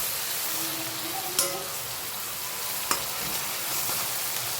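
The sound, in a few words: garlic and green chili sizzling in hot pan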